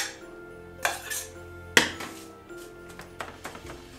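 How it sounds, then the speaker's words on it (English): A spoon pats and presses a buttered graham cracker crust into a container, giving quiet scraping with a few sharp clinks and taps against the dish. "you put it along the bottom with your spoon, like this. You pat it down"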